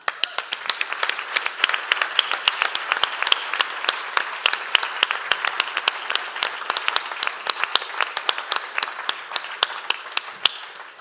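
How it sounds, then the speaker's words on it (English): Sustained applause from the audience at an awards gala dinner, with many sharp individual claps standing out over a steady patter that holds evenly for about eleven seconds. "So please join me in a round of applause for Mike Shola."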